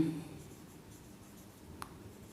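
Marker or chalk strokes on a board during a class 10 maths lesson, a quiet steady scratching that runs throughout with one brief sharper tap near the end, no speech over it.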